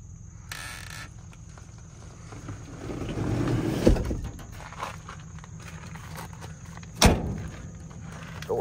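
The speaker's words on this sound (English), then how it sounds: "Door shuts nice." The door of an old Ford F-100 pickup shuts with one solid thump near the end, after an earlier softer knock, over a low rumbling background.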